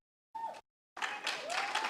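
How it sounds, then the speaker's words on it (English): At a city council meeting, audience applause comes in two short bursts separated by silence, the first brief and thin, the second fuller and sustained, with a faint tonal hum running through it. "Please, no applause."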